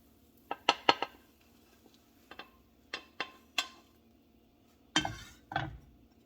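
Plates and dishes clink and clatter in a home kitchen in a series of sharp, separate knocks, with a louder cluster near the end, close by and alone.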